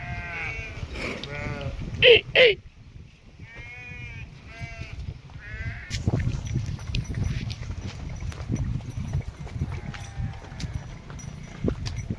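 Goats released to go and drink water bleat several times, with loud, quavering calls in the first half and then fainter ones. Hooves clop and patter along with outdoor noise.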